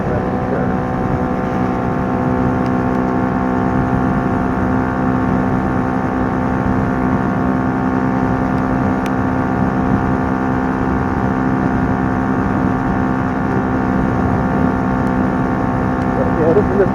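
Kymco K-Pipe small motorcycle ridden at full throttle along a rough country road, its engine holding a steady, sustained drone with wind rush, loud and constant throughout with no change in pace.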